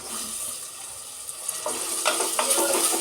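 Beans, potato, carrot and cauliflower frying in a pan for veg pulao give a steady soft sizzle, with scraping stirring strokes and clinks from a spatula growing busier toward the end.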